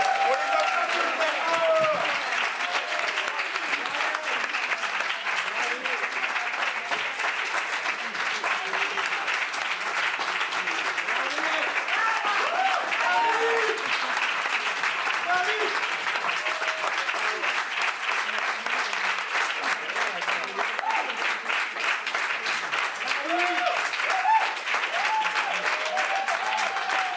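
An audience applauds a team on stage at a Cannes 2022 press conference, steady dense clapping sustained at an even level throughout, with no voices over it.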